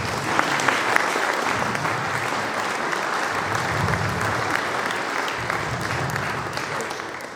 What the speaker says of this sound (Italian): Un applauso anche per Ugo.